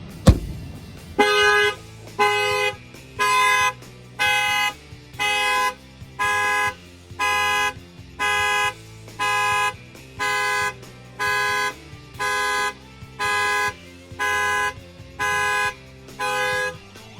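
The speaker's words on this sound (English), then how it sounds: "I'm gonna go ahead and bang on the window. The alarm will fire off." An aftermarket car alarm on a 2020 Chevy Silverado pickup blares a loud, even horn-like tone in regular pulses, about fifteen blasts at a steady cadence with short gaps between them.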